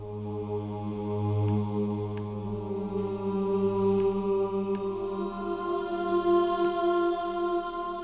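One sustained note from a sampled choir instrument in Logic Pro X rings out, a smooth blend of voices holding a single pitch for several seconds without talk.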